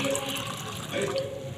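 Water poured into drinking glasses at a birthday gathering, a soft, brief trickling splash heard close by at low level, with no talk over it.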